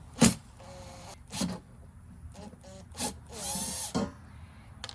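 Short bursts of a Makita cordless drill whirring in and out, driving fine-thread screws while installing a dash mount in a 2025 Nissan Frontier Pro-4X, with quick clicks and knocks between, close up in a quiet space.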